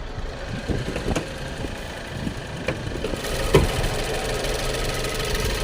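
A 2015 Land Rover Discovery HSE with a 2.0-litre turbo engine idling rough from a misfire, a steady close mechanical churn broken by irregular ticks and stumbles, with no talking.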